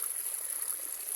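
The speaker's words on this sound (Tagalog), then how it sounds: "Tignan nyo po yung tubig. Punong-puno po." Irrigation water in a farm field in the Philippines rushes steadily and strongly, a continuous close hiss with no pauses or voices over it.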